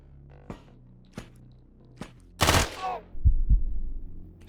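Gunfire in the game Quasimorph: several sharp single shots spaced about a second apart, then a louder burst with a long rattling tail and two heavy thumps, with no talking.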